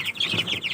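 A chicken clucks in a quick series of short, bright, repeated calls, close and fairly faint, with no talk.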